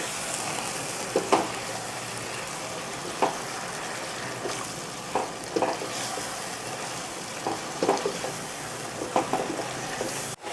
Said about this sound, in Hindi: इसे भी अच्छे से मिक्स कर लूँगी और भून लूँगी।